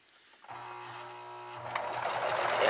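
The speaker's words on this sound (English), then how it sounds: "I'm just going to start stitching, and as I'm stitching, I'm going to spin this around." A serger machine runs steadily, stitching binding onto the raw edges of a quilt as the fabric is turned, a close mechanical whir that starts abruptly and grows slightly louder and busier toward the end.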